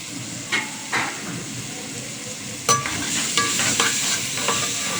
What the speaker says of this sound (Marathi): पुन्हा व्यवस्थित हलवून घ्यायचं आहे